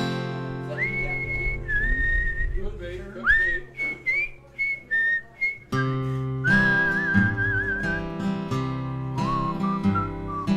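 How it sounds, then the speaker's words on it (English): Melodic human whistling carries a tune over live band accompaniment at a small venue performance, the whistled notes sliding and sustained, loud and close, with steady music underneath throughout. "Can you hear that whistle?"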